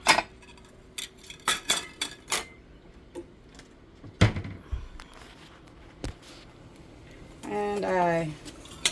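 Small plates are lifted from a cupboard above a kitchen stove, giving scattered clinks and knocks of crockery. A sharp thud is heard partway through, and a person speaks over part of it.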